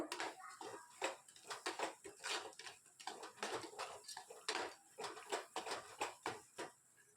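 Pirandai thokku, a creeper-stem relish, is stirred in a pan, making quiet rhythmic scrapes and light clinks in repeated strokes at close range, with no voice over it.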